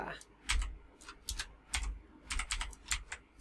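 Quick bursts of clicking keystrokes on a computer keyboard as a search is typed into Google, close and crisp, with a voice speaking over the typing.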